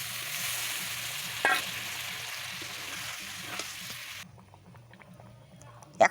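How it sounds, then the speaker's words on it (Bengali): Potatoes and chicken fry with spices in a pan, giving a steady close sizzle with a few stirring scrapes, then the frying drops to a quiet simmer near the end. "মশলার সঙ্গে আলু ও চিকেনটা একেবারেই পাকাপাকিভাবে কষাইয়ে নেওয়া হলো।"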